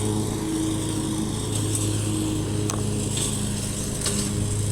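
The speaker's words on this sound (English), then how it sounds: "I'll pause it so you don't have to listen to that mower so much." A lawn mower drones steadily nearby outdoors among flowers, a loud continuous engine hum with no pause across the whole stretch.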